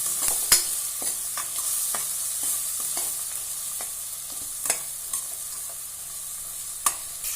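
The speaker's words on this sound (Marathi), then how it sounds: "त्याच्यावर आपण हे पावट्याचे दाणे घालूया परतायला धुवून घेतलेत आपण ते थोडेसे परतायचे" Washed field bean seeds stir-fried in a pressure cooker: a constant hiss of frying runs throughout, with sharp intermittent scrapes and taps of the spoon against the metal, and no speech.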